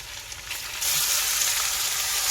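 Onion and garlic hit hot oil in a pan, the gentle background sizzle jumping to a louder, steady hissing fry that continues to the end.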